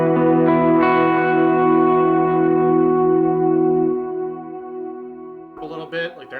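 A sustained, chiming guitar chord rings out with soft repeats trailing into a wash of reverb, fading before a few quieter plucked notes.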